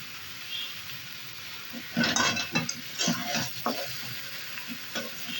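Meat sautés in a spice paste as the oil separates, a soft sizzle beneath several louder bursts of scraping and stirring in the pot, fairly quiet overall with no speech.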